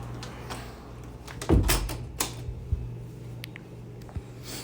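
A door is pushed shut indoors with a soft thud and clunk, surrounded by a few fainter knocks and rattles over a steady low hum.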